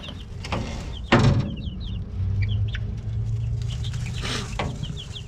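Barred Rock chickens cluck and chirp inside a brooder, with soft repeated clucks and a few louder calls close to the microphone over a steady low hum.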